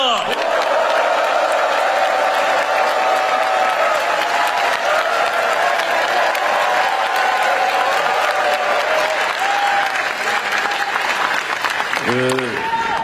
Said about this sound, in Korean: 열렬한 환호와 박수를 부탁드립니다.